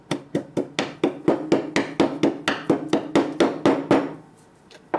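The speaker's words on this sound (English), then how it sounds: "So what I'll do is, again, I just continue to hammer it out." A hammer pounds phyllite rock into smaller pieces, about sixteen sharp, close blows in a steady rhythm roughly three per second, then stopping into quiet.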